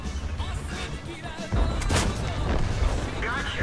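Tank cannon shots boom in a tank video game, a WZ 131 battling an IS-3 and IS-6, with a heavy blast and rumbling aftermath midway through under steady game noise.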